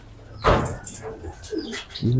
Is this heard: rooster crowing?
no